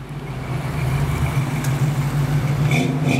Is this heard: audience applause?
no